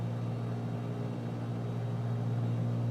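Ryan Navion B piston aircraft engine in Microsoft Flight Simulator, heard as a steady, low droning hum with a constant tonal buzz, even and unchanging in level throughout.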